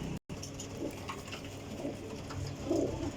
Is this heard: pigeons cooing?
yes